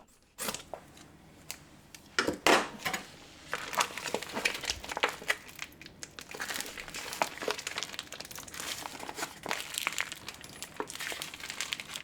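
A brisket is unwrapped from its plastic wrapper, with close, continuous crinkling and rustling of plastic, some sharper crackles and a brief louder burst early on.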